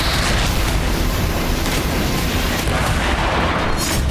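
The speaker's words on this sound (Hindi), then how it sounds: "यहां रूस की सेना के एक सीनियर अफसर की कार में अचानक धमाका हुआ।" A car belonging to a senior Russian army officer blowing up, a loud, sustained roaring blast with dense rumbling and crackling that stays heavy for over four seconds.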